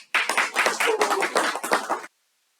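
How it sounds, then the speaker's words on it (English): Meeting participants burst into a round of applause together, a dense burst of clapping lasting about two seconds before stopping abruptly into silence. "I want you all to give a huge round of applause to ourselves."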